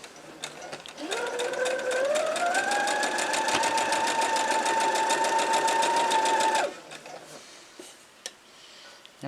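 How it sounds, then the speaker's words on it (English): Sewing machine stitching quilt fabric for a Lone Star quilt block, a fast, even mechanical whir that ramps up in speed, runs steadily for several seconds, then stops abruptly, followed by quiet handling noises. "Now we're going to sew straight down and off onto our square."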